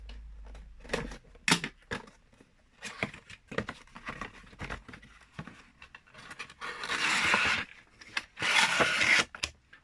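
Cardboard and plastic packaging of a Johnny Lightning die-cast model car being opened, with close rustling, rubbing and scraping in irregular bursts, growing into two longer, louder rasping stretches near the end.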